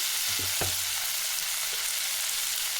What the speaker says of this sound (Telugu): ఇది ఇప్పుడు బాగా ఫ్రై అవుతుంది.